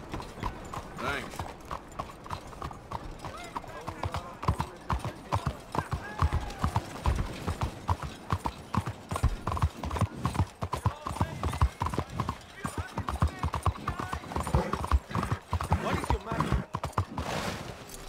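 Horse hooves clip-clop steadily in Red Dead Redemption 2, a continuous rhythmic trot lasting throughout, close and fairly loud, with occasional whinny-like sounds and speech over it.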